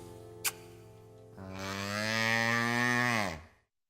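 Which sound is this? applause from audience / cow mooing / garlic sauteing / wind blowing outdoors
cow mooing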